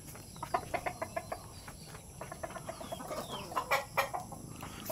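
Chickens clucking repeatedly in short, rhythmic bursts, moderately distant, over a steady hum of background noise.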